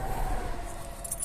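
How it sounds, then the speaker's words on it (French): Key being pulled from the ignition of an Audi TTS, a short soft metallic jingle and click close by, with no talking. "On coupe, on retire donc la clé."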